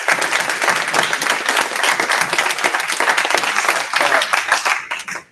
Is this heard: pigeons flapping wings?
no